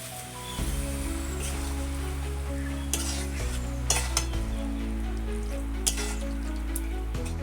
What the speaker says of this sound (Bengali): এটা গ্রেভি করার জন্য হালকা একটু জল দিচ্ছি।